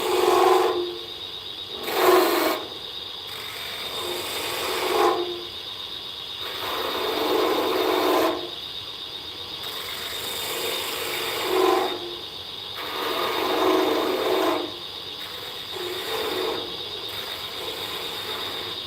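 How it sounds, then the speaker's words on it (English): Wood lathe turning a cherry spice jar, with a tool rasping against the spinning wood in repeated scraping passes that swell and fade every couple of seconds over a constant high motor whine. "Now I'm going to slow my lathe down, about 600 RPM."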